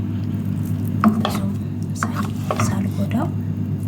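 Boiled potatoes being stirred gently in a pan, with soft scraping and a few brief utensil knocks at close range over a steady low hum, no talking.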